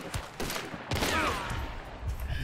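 Gunfire in the video game Hunt: Showdown, a couple of sharp shots with a whistling ricochet-like tail, loud and close against the game's ambient background.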